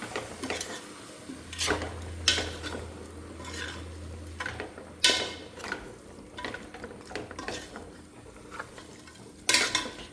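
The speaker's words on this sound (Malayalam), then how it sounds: "ഇത് നല്ലപോലെ ഇനി മിക്സ് ചെയ്യണം" Food is mixed in a pan in a Kottayam-style home kitchen, with irregular scraping and clinking strokes of a spoon against the pan over a faint background sizzle, close and fairly quiet.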